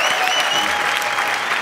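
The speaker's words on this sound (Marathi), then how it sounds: "टाळ्या" An audience at a Marathi comedy stage show claps steadily, a dense and even burst of applause that fills the room without a pause.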